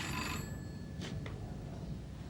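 A telephone rings once with a bright electronic trill, followed by a couple of short clicks, faint against a steady background hiss in an indoor scene.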